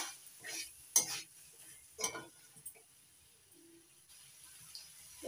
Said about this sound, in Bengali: এবার ভেজে রাখা আলুগুলো দিয়ে দিচ্ছি, মিশিয়ে নিচ্ছি